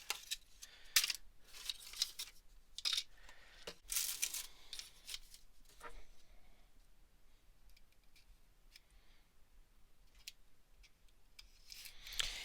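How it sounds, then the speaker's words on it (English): A toy figure accessories box is opened, with crisp cardboard scrapes, paper bag crinkles and rustles coming in close bursts, loud at first and then quieter, scattered handling sounds. "Opening up the accessories box, we'll see what's inside."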